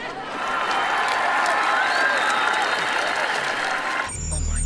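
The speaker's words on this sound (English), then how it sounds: "let's cheer our team on to victory" A large crowd cheers and applauds before a game during a sound and light show, making a dense, continuous roar that breaks off abruptly near the end into a different sound.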